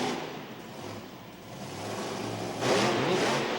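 A Bigfoot monster truck engine revs on its approach at a 2005 Monsters of Destruction show in St Paul, a distant, muffled roar that swells louder near the end.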